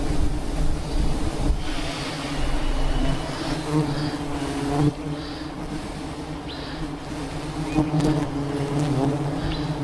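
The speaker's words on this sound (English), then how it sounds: "surrounded by millions of the largest honeybees on Earth" A dense swarm of giant honeybees buzzing all around at a honey hunt high up a cliff, a loud, constant, close droning hum with gusts of wind noise.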